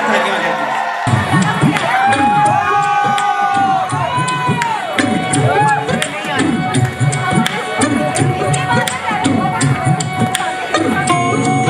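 A wedding sangeet crowd cheering and clapping for the sisters, with whoops, shouts and excited babble over loud festive music throughout.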